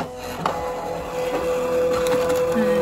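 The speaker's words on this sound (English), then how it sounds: "yes, it does make a lot of noise, doesn't it? The machine is now reading the cutting marks" Cutting machine whirring steadily as it reads printed cutting marks, a continuous mechanical hum with a sustained tone and faint ticks, close and fairly loud, no talk.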